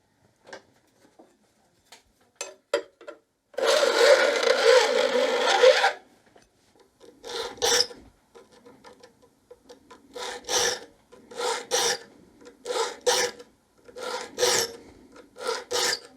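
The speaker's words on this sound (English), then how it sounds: "we'll joint it once again and just do one pass on each of the teeth just to do the final sharpening" Crosscut handsaw teeth are filed for final sharpening: a few light scrapes, then a sustained rasping file stroke, followed by a steady series of short, crisp rasping passes, close and clear.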